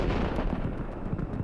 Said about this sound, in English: HIMARS gets the target coordinates and fires a shot. A moment later, we witness a tremendous explosion.